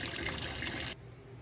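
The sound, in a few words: water rinsing camel meat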